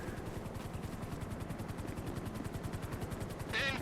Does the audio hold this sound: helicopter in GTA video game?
yes